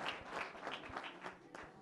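A studio audience applauds a child drummer on a televised folk music show, a brief burst of dense clapping that carries evenly to the end.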